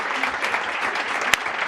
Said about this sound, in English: I want you to give them the most amazing round of applause